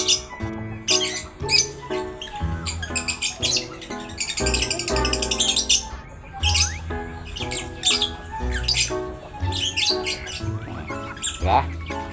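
Pet chickens being fitted with leg rings give repeated loud squawks and sharp chirps in irregular bursts, close by, with scattered rustling and faint voices among them.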